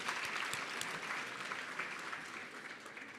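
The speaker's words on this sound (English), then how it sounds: "Can we give another round of applause for her," Audience applause at a conference, a steady dense patter of many hands clapping that holds at an even level and fades only slightly.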